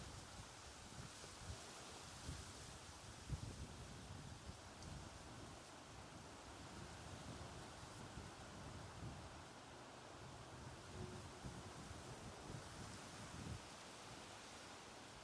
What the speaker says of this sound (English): wind's fucking blowing a bit